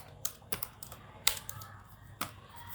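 Sparse keystrokes on a computer keyboard: a handful of separate, crisp clicks spaced irregularly, close and fairly quiet.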